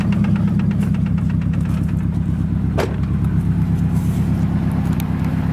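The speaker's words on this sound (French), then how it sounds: "Maintenant on va laisser chauffer la voiture, dès qu'elle sera à température" A Nissan S13 with a CA18 engine idles while warming up, a steady, close, even rumble with a faint pulsing beat throughout, broken once by a single sharp knock partway through.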